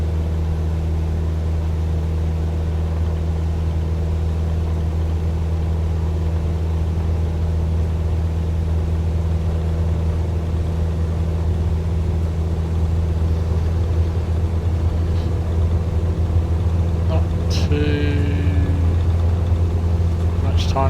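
A simulated airliner in Microsoft Flight Simulator on its takeoff roll at full power with flaps fully down, a steady loud engine roar and low drone holding throughout, with a brief higher whine near the end.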